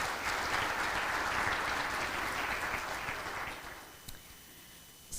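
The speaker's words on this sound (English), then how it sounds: "I think that's worth a round of applause." An audience at a city's annual state-of-the-city address breaks into sustained applause, a dense wash of clapping that holds steady and then tapers off over the last second or two.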